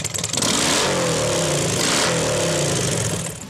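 A motorcycle revving hard on a main street in Riga at night, a loud, sustained engine roar that swells and holds near the listener before starting to fade.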